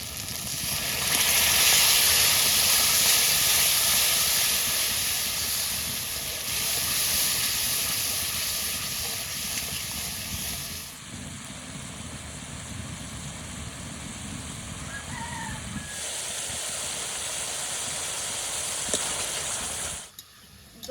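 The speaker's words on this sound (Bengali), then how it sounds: "এবার দিয়ে দেবো মশলা মাখানো ফাটানো টক দই" Spiced, whipped sour yogurt hits a pan of fried spices while cooking yogurt okra curry, giving a steady loud sizzle and hiss that eases slightly partway through and cuts off at the end.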